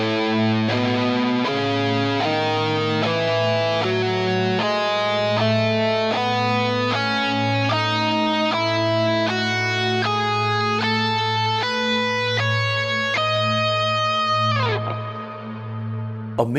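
A distorted electric guitar steps up the Aeolian scale one note at a time over a steady low drone, ending on a held note that fades out.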